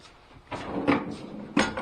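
A wooden workbench drawer fitted with a divider slides open and shut, giving a few soft knocks and one sharper thump close by in a quiet workshop.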